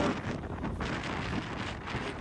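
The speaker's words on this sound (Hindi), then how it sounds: "ये मौसम बहुत क्या हवा चल रही है" Steady wind gusting outdoors in rainy weather, a broad rushing roar buffeting the microphone throughout, with no voices.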